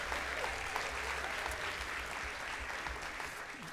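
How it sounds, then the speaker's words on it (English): Sustained applause from an audience cheering a contestant, a dense, steady wash of clapping that fills the whole stretch without any voices over it. "Big applause for our contestant."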